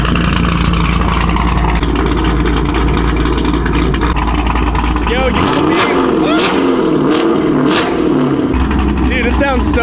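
A car engine revs hard at close range, a loud throaty roar with rising and falling pulls, while several people talk and shout excitedly around it.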